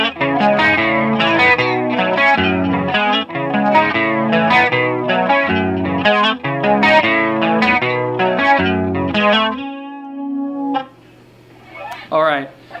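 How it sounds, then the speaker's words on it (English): Two electric guitars play a riff harmonized in thirds, with chorus and echo effects. The repeating arpeggiated pattern rings out clearly for several bars, then ends on a sustained note. "sort of elusive thing in the background where it sounds like there's 2 guitars playing"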